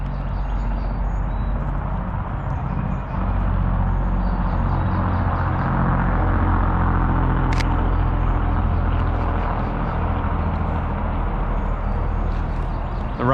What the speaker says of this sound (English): so that's what you hear, the traffic going on the interstate.